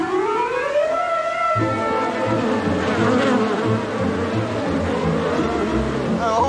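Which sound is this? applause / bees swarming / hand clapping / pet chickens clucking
bees swarming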